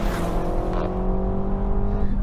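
Renault Megane RS 280 Cup with a 1.8 liter engine, its exhaust rumbling with a deep, bassy note throughout, steady and close, with crackle-like roughness and no speech.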